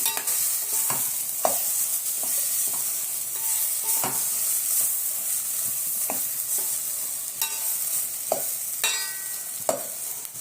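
Eggplant sautéed in a pan for kara kuzhambu, giving a continuous sizzle with repeated scraping clicks of a spoon stirring against the pan.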